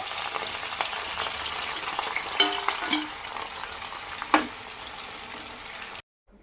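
Potato fries bubble and hiss loudly in hot oil, a dense, steady frying crackle with a few clinks of a utensil against the pan, before the sound cuts off abruptly near the end; no talking.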